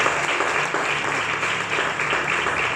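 A church congregation applauds, a dense, steady wash of many hands clapping together, filling the room continuously at moderate volume without a pause.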